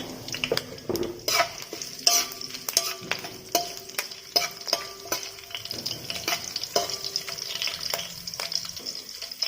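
Four slit green chilies frying in hot oil with curry leaves for a village-style drumstick chicken curry, crackling and sizzling up close, with frequent spatula scrapes and taps on the pan throughout.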